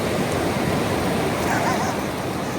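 Ocean waves wash up onto a beach in a steady, broad rushing hiss that continues without a break.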